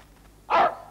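A single short, fairly loud dog bark rings out alone against a quiet background.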